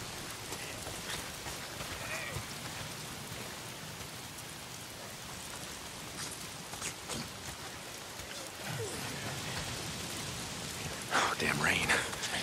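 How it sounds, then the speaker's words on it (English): Steady rain falling in the video game Days Gone, a dense continuous patter that swells louder near the end, heard without speech. "Why is it always raining?"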